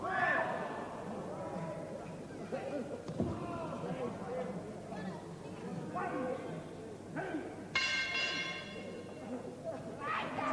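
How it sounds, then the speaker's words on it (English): A ringside bell rings once, briefly and clearly, to end round three of a 1983 New Zealand professional wrestling match, over steady commentary and arena crowd noise. "It's the bell."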